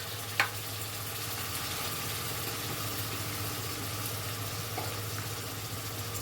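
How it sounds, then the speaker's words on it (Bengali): Chopped tomatoes fry with ginger paste and spices in a pan, giving a steady, fairly quiet sizzle over a low hum, with a single light clink near the start and no talking. "এবারে দিয়ে দিচ্ছি 2খানা মাঝারি সাইজের টমেটো কুচি।"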